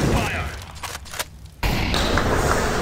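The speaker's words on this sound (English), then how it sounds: "Preemptive grenades from Astralis towards the apartments" Preemptive grenades explode in a Counter-Strike: Global Offensive match on Inferno, heavy booms and rumbling blasts layered under an esports caster's continuous commentary.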